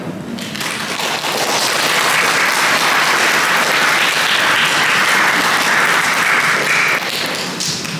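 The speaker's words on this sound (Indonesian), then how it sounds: "Saya rasa boleh lah ya tepuk tangannya." Audience applause at a youth inculturation church service of HKBP Palembang, building quickly into loud, dense clapping that holds for several seconds before tapering near the end.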